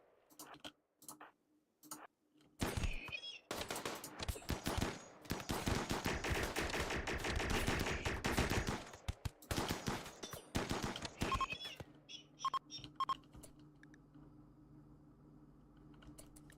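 Rapid bursts of gunfire from a RimWorld battle with Blood and Dust content, rattling in dense volleys with scattered single shots and ticking clicks, fairly faint overall and fading to a low hum.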